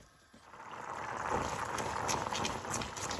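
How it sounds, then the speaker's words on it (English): A pot of Jamaican cornmeal pudding with coconut milk and sugar bubbles steadily, a soft continuous simmering hiss with faint pops that grows slightly louder after a quiet opening moment. "I'm just gonna let this boil down."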